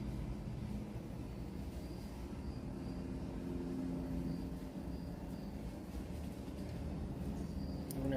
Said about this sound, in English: No one's complained about my noise or my drone overhead yet.